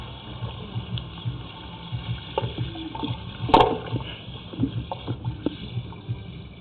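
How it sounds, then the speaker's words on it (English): Water runs steadily through a pipe during a sewer camera inspection, a low continuous trickle and gurgle with scattered splashes and a sharper burst near the middle. "let me run some more water"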